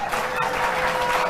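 A television studio audience on a late-night comedy talk show breaks into applause, a brief wash of dense clapping and crowd noise throughout.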